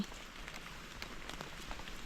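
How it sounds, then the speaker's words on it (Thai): Rain falls steadily on surfaces outdoors during a mushroom-foraging trip in Phayao, a soft constant patter with scattered sharper drops, fairly quiet and without talk. "ฝนตกค่ะพี่น้อง"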